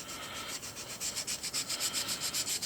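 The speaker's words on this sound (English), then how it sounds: "all I do is get it wet and start sanding, trying not to touch the rock" Wet sanding of a fossil echinoid, Scutillaster major, by hand, producing quiet rhythmic rubbing strokes in quick back-and-forth succession, close and faint with no speech.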